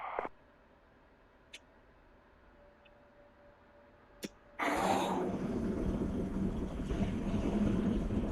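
An aircraft engine in a flight video game is started with an inertial starter: a faint, steady whine hums over near-silence, a few soft clicks follow, then the engine catches abruptly and roars on loudly and continuously.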